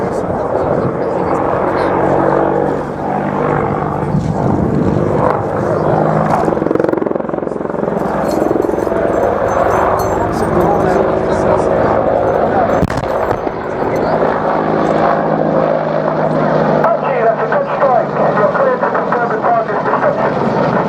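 An Apache attack helicopter performs at the Wings and Wheels airshow at Dunsfold, a loud, continuous rotor and turbine roar with heavy low rumble that swells and shifts throughout, while a commentator talks over the public address.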